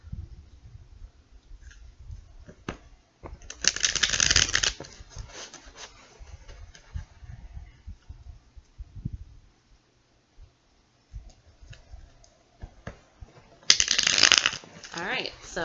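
Tarot cards are riffled and shuffled close up in two crisp bursts, separated by quieter handling rustles and faint taps, with no talking over them.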